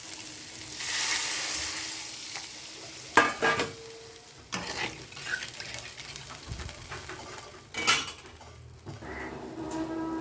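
Water poured into a hot frying pan of fried potatoes for an egg omelette curry, giving a loud burst of sizzling and spluttering with clinks of pan and utensils, flaring up sharply at several points, no talking.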